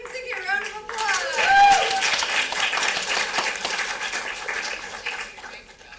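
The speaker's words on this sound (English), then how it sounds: "Let's give Ziggy a round of applause." An audience at a young playwrights' festival reading gives a round of applause, clapping rising after a brief cheer and squeal, holding steady for several seconds, then tapering off, with voices talking over it.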